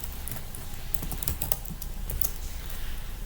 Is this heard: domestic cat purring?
no